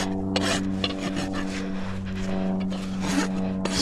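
The fine side of a rasp is drawn over a horse's hoof during trimming of a quarter crack. The rough, repeated strokes come close up in a steady rhythm.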